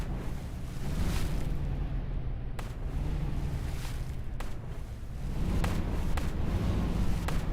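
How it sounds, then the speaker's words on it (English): A video game boat's engine gives a steady low drone throughout, with wind-like noise and occasional sharp clicks, no voices. "You can also hear the engine."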